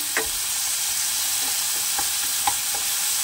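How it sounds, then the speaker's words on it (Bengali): Tomatoes stirred in a frying pan while cooking a Bengali tangra fish dish: steady loud sizzling throughout with several soft scraping strokes of a spoon at irregular intervals, no talk. "এবারে তাকে ভালো করে নাড়াচাড়া করে একদম টমেটোটাকে গলিয়ে দেবো।"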